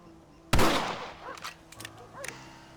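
A single loud, close rifle gunshot from a Western-style game rings out sharply and decays, followed by faint chatter and a few softer clicks and thumps afterward.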